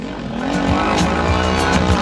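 A racing vehicle's engine runs steadily at high revs, a loud, close buzzing drone with rich harmonics and slight pitch wavering, with faint crowd or commentary noise underneath.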